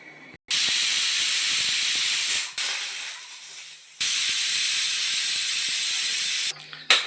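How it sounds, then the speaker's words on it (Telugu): A pressure cooker on high flame boiling rice for chakkera pongali, loud bursts of hissing steam venting in two long blasts with a short quieter gap between, then tapering off near the end. "కుక్కర్ మూత పెట్టుకొని 3 విజిల్స్ వచ్చిన వరకు హై ఫ్లేమ్లో పెట్టుకొని మనం బాయిల్ చేసుకోవాలి"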